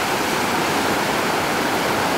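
Ocean waves wash in at Galveston beach in Texas, a steady, close roar of surf and foamy water with no talk over it.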